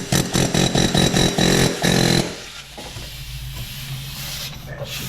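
Pneumatic air hammer working on a fan clutch in a Chevrolet Canyon or GMC Colorado engine bay, firing in a fast series of loud rhythmic bursts for about two seconds before stopping, leaving a steady hiss of leaking air from the hose.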